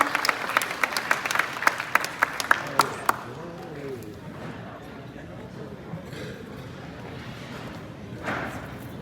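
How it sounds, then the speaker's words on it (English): A room crowded for a Lunar New Year celebration claps for a councilwoman, a few seconds of sharp, scattered claps that fade out as a voice begins speaking. "Let's give her a round of applause."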